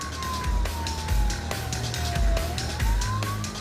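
A police car siren wails with a slowly sliding pitch over the hum of the moving vehicle on blue lights at 2 a.m., with rhythmic thumps of passing road noise, fairly close.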